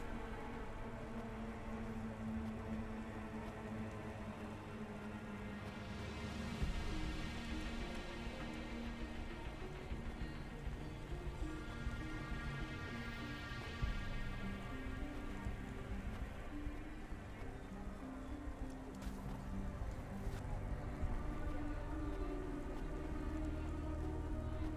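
Rain falls steadily in the video game Cloudpunk outside a restaurant, a dense, even hiss of drops with faint tonal hum beneath, constant for the whole stretch.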